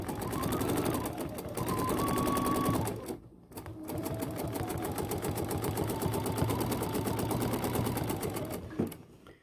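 A Bernina sewing machine with its stitch regulator races through free-motion quilting, a fast, even needle chatter close by that halts briefly near the one-third mark, resumes, then stops at the end.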